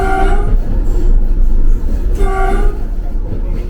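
An Austrian railway train sounds its horn on a steady incline, two loud sustained tonal blasts over rumbling rail noise, close and prominent.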